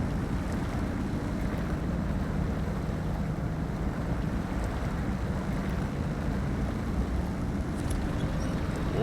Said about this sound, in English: we are slinging quite a bit of mud